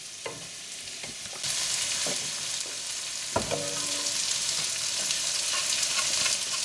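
Sliced green chilies hitting a hot pan of onions and spices, a loud steady sizzle jumping up as they land, with occasional clinks of a spoon stirring.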